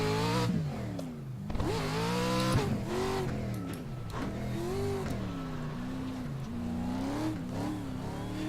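A pro truck in the iRacing game drives off-road with its engine revving hard, the pitch surging up and down with each throttle change, loud and continuous without talk.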